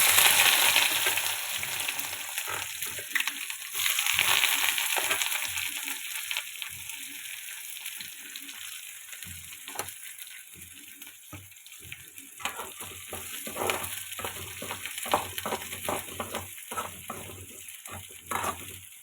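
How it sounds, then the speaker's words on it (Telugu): Ridge gourd pieces hit hot oil with tempering seeds, setting off a loud, steady sizzle broken by repeated metallic scrapes and clinks of stirring. "తాలింపు గింజలు వేసానండి నూనెలో. ఇగో బీరకాయ ముక్కలు"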